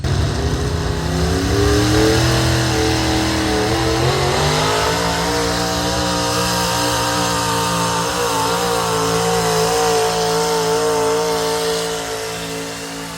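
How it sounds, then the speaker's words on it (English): Super stock Chevrolet pulling truck with an aluminum-head engine roars at a sustained high rev, steady and loud throughout with shifting pitch, easing slightly near the end. "Dave Rosick with the Fatal Attraction Chevrolet 336"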